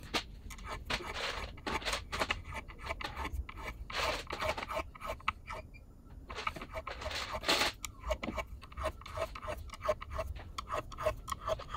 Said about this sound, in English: I have some fret erasers in various degrees of grit that we can polish it up